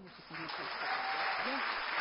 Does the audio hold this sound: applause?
yes